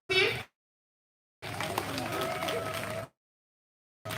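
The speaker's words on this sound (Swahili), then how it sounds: "Pigia makofi" An audience claps for a choir at a funeral send-off in Wanakhale village, Vihiga County. The applause comes in brief, abruptly cut bursts from a crowd, with silent gaps between them.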